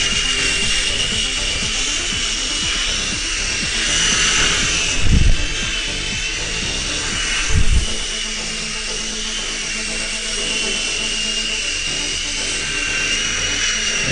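A small beginner RC toy helicopter flies nearby with a constant buzzing rotor whine that holds steady throughout, with two brief low thumps partway through.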